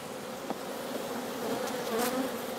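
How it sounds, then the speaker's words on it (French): A honeybee hive stirred up while the colony is opened for a varroa mite count, giving a steady, close, agitated buzzing that swells slightly toward the end, with no talking. "Je suis en train d'énerver un peu la ruche là."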